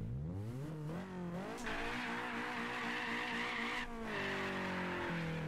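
A car in the racing game Apex Point revs hard under throttle, the engine note climbing and dropping through gears while tires squeal in a sustained screech, loud and continuous.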